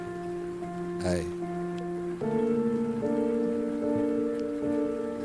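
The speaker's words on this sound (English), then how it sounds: "Sound of the rain, baby." Steady rain patters as a broad hiss beneath sustained musical tones, with a brief voice-like burst early on; the rain stays continuous and moderately loud throughout.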